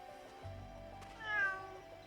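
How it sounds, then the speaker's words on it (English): A cat in the video game Atelier Yumia gives one short, faint meow with a rising and falling pitch, heard over quiet background game music. "Oh, hi, kitty."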